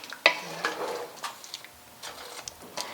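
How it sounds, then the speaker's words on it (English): A spoon scrapes and stirs a salmon curry with tomatoes in a pot, producing soft close scraping strokes over a faint simmering sizzle. "Give it a good stir."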